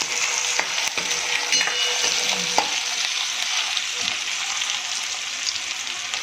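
Potatoes fry in hot oil for veg pulao, giving a continuous close sizzle with scattered pops and a faint scrape of stirring, and no voices.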